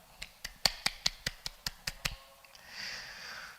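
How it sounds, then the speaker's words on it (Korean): About ten sharp, evenly spaced claps ring out in a steady rhythm at a church worship service, then stop, leaving soft background murmur. "하나님께 영광의 박수 올려드리도록 하겠습니다"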